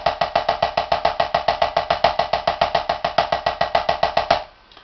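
Fast, even snare strokes played with classical finger technique in a continuous stream, every fourth note accented, played alone before stopping suddenly.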